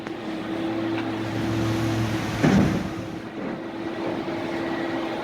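Wind blows steadily outdoors with a low rumble and hiss, briefly gusting louder near the middle.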